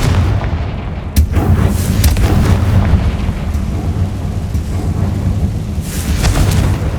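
Confringo spell explosion in the Hogwarts Legacy video game, a sharp loud blast at the start followed by rolling booming rumble and another burst later, thick and close.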